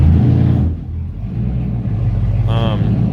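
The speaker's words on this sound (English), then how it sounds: "So we're backing up Guthrie's truck in here right now." Guthrie's truck backing into a garage, a steady low engine rumble close by that dips briefly then holds, with a short voice near the end.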